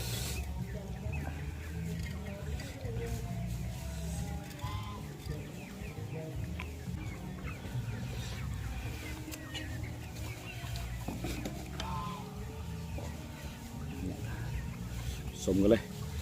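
Chickens cluck intermittently in the background of an outdoor meal while people talk and eat over them. The clucking is fairly faint and scattered throughout.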